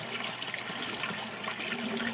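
Water draining off a bio shelter grow bed through a fill siphon in an air-lift pump system, a steady broadband rushing and trickling that holds at an even level throughout, close by with no voices.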